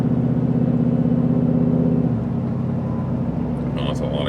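A Jeep Wrangler with a Hellcat engine and large supercharger runs loud and close, a steady engine drone whose pitch drops midway as it settles, with a voice faintly audible.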